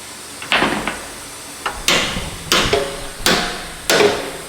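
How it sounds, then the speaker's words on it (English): A carpenter hammer strikes a welded clamp part on a Ram Cummins pickup truck, giving six sharp metallic blows, two light taps and then four heavier spaced hits, each ringing briefly close by, with no talk. "Here's your hammer. Oh, your carpenter hammer, huh?"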